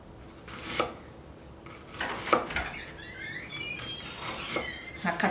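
A knife chops onion into small cubes on a board, giving several sharp, close knocks and scrapes at irregular intervals, with faint kitchen clatter in the background.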